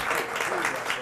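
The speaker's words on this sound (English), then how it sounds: "let's hold the applause" Audience applause at a Cleveland mayoral debate, a steady, dense wash of many hands clapping that fills the whole short moment at moderate loudness.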